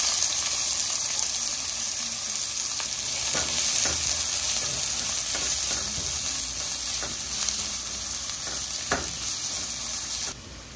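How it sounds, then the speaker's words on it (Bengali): Onions sizzle steadily in hot mustard oil in a pan, a loud continuous frying hiss with occasional clinks and stirring scrapes, no voices. "তেল গরম হয়ে গেছে, এখন এখানে দিচ্ছে পেঁয়াজ।"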